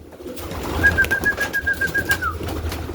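Homing pigeons on a training flight: one clear, drawn-out high call rises above a low rumbling background, fairly close, with no talking.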